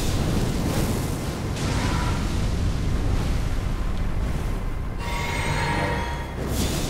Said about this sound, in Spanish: No, por eso, explosión.